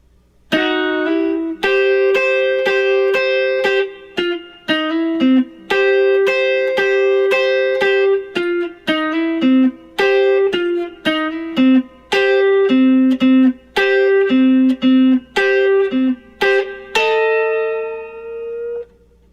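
Electric guitar playing intro solo riffs, crisp bright double stops picked in rhythmic bursts with bends and slides, close and clean with light reverb, ending on a ringing sustained note.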